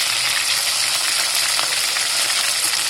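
Chilli prawns fry in a hot pan on full heat, giving a loud, steady sizzle with a crackling hiss and no break.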